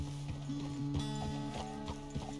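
Horse hooves clop at a walking pace in Red Dead Redemption 2, with evenly spaced, fairly close hits under a steady tonal background hum.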